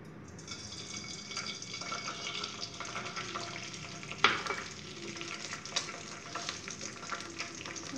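An egg fries in about two tablespoons of oil in a pan over a medium flame, a steady close sizzle with occasional sharp pops and crackles.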